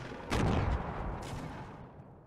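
Pistol gunfire in the Fortnite Battle Royale video game, a couple of sharp shots with a booming tail, the first loudest, the sound fairly quiet overall.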